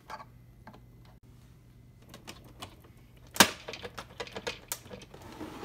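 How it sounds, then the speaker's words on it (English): Small hidden screws on a Keurig coffee machine being popped up and undone, faint scattered clicks and scrapes of a tool on plastic with one sharp snap midway, close and quiet in a still room. "We got these hidden little screws that we need to just pop up and undo."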